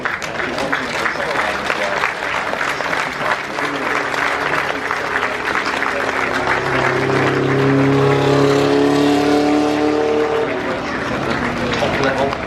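A classic racing car drives past on the track at the Goodwood Revival; its engine swells in the middle of the clip under continuous commentary and crowd applause, then fades.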